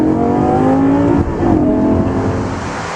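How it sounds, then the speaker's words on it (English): Lamborghini Gallardo LP570-4 Superleggera (2011) with a tuned, amplified ceramic-coated exhaust, its engine droning loud and steady with rising and falling pitch as it revs, a brief dip midway before pulling on again. "The car has a ceramic-coated exhaust that's tuned and amplified a bit from the regular Gallardo LP560s and 550s, and it works."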